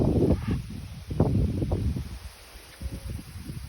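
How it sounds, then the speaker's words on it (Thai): Strong gusts of wind rustle and shake the leaves of trees in a durian orchard, a loud, ragged rushing that rises and falls close to the microphone. "ลมโยกแรงมาก"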